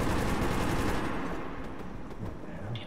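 Dense, loud gunfire from the Metro 2033 video game rattles continuously through the first half, thinning into scattered muffled shots and rumble toward the end.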